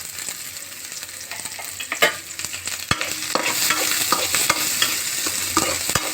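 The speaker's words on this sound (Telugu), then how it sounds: "ఇప్పుడు ఆనియన్స్ వేయించుకోవాలండి." Onions frying in oil in a pan, a steady close sizzle with scattered crackles and the occasional stirring scrape, no talking.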